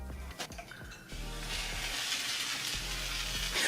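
A Q-redew handheld hair steamer hisses steadily against Type 4 hair, a close, sizzling spray-like rush that starts after a few faint clicks and holds strong throughout, with no one speaking.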